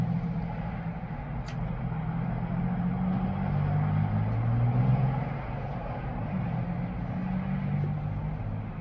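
Steady road traffic rumbling outside a home, a continuous low engine drone from passing cars and heavier vehicles that swells slightly mid-way, with no voices.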